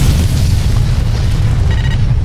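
Vasudan cruisers blowing apart in the Freespace space combat game, a loud, close, continuous booming roar of explosion that fills the short stretch without pause.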